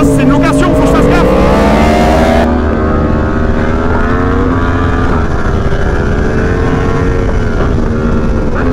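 A Yamaha R1 sport motorcycle ridden hard, its engine roaring loud and close with rising and falling revs through gear changes, continuous wind and road noise throughout.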